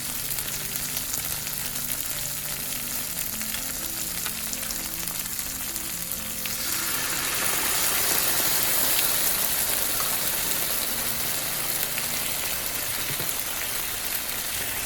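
Thai eggplant fries in a pan with sauce, a soft crackle at first that swells into a loud, dense, steady sizzle about halfway through and continues without a break, with no voices.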